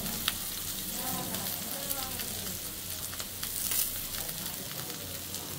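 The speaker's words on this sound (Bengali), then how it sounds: "এখন আমি পরে পেঁয়াজ ভেজে নিব অল্প করে" Onions frying in a little oil in a pan, a low continuous sizzle with faint crackles and occasional stirring, close and quiet with nothing else over it.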